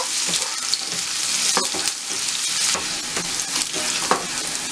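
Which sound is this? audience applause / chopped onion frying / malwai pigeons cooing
chopped onion frying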